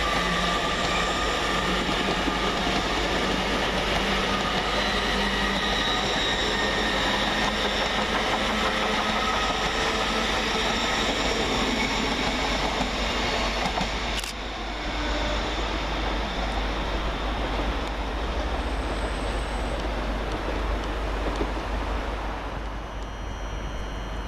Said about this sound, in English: Next out to depart is 801213, working the 10:50 LNER service from Edinburgh Waverley to London King's